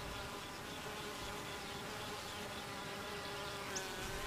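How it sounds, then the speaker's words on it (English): Honey bees in a hive hum in a soft, continuous drone, a low steady buzzing of many insects with no voices. "Watch the young bee crawl out of the cell."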